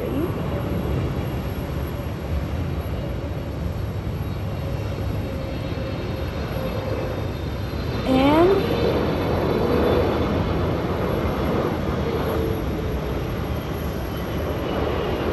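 An Air Canada Boeing 777-200LR landing at Sydney Airport, a steady broad jet roar heard from a distance that swells slightly around touchdown, with a brief rising tonal chirp partway through.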